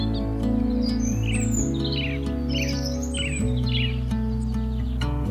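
Birds sing in a tropical jungle in Yunnan, China, a sequence of bright chirping phrases repeating over a low steady hum, with no talking.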